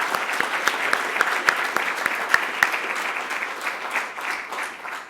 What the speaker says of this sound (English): give them a shout out with a big clap